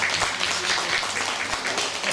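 Audience applause for a student conductor stepping onto the stage at a jubilee concert evening, a steady wash of many hands clapping throughout, fairly loud and continuous with no pause.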